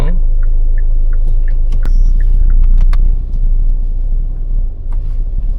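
A car driving on a road at night, heard from inside as a steady low engine and road rumble with faint clicks and a brief chime, a voice murmuring lightly under it.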